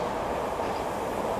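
A train rumbles past near the railway bridge at South Walpole Way, a steady close rolling roar of wheels on track filling the whole moment without pause.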